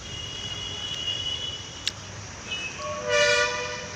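A train at Vadnagar railway station rumbles steadily in the background, with tonal horn-like sounds rising near the end; the sound is moderately distant and there is no speech.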